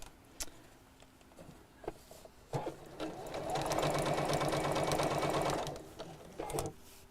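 A sewing machine stitches piping onto a curved chair cushion edge, its steady motor whir running close and loud for a few seconds, framed by short bursts and clicks of handling before and after.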